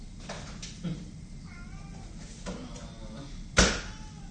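Several short cat meows, a few seconds apart, over faint background noise, followed by a sharp knock or thud near the end.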